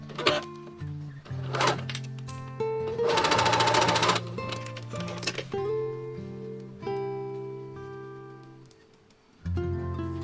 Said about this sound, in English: Stitch fabric to lining.